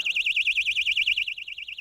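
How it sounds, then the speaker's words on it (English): Alarm sounding inside a plexiglass box insulated with Johns Manville mineral wool, lid lifted, giving a loud warbling electronic siren tone pulsing rapidly and steadily, alone with no talk. "As we lift the lid, we can hear how loud the alarm is."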